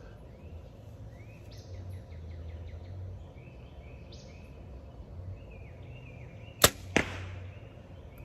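An arrow released from a hunting bow fitted with broadhead tips gives a sharp twang and a quick thwack of impact, close and loud, over a quiet outdoor backdrop of bird chirps and insect hum.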